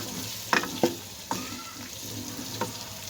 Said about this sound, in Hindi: आलू को हम जो है तकरीबन 1 से 2 मिनट तक अच्छी तरह मसाले के अंदर भूनेंगे ताकि अच्छी तरह आलू भून जाए।